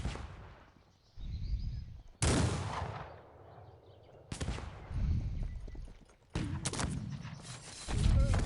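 Cannons fire in a Cossacks 3 battle, a series of loud booming volleys spaced a second or two apart, each followed by a rumbling decay.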